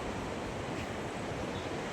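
Sea waves breaking on Rajodi beach, a steady broad roar of surf with wind, continuous and fairly loud for the whole stretch without talk.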